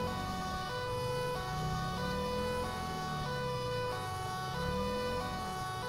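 A police Audi's siren in GTA 5 with the LSPDFR mod wails steadily and loudly throughout, with the rise and fall repeating over a low engine hum.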